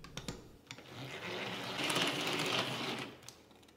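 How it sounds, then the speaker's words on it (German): Electric hand mixer whipping 200 ml of cold cream until stiff, a fairly quiet continuous whirring buzz with a few clicks and knocks at the start and near the end. "inzwischen schlage ich noch 200 Milliliter Sahne steif"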